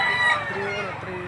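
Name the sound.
rooster crowing at chicken market in Lipa City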